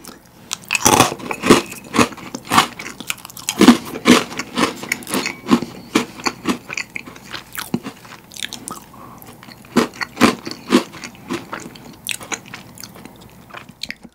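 Freeze-dried space ice cream with a cookies-and-cream style filling, bitten and crunched up close in a steady run of sharp, dry crackling bites and chewing with no talk.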